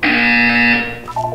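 A harsh electronic buzzer sounds in the Portal 2 video game, a loud, steady, close drone lasting under a second, then cutting off into a softer tonal beep.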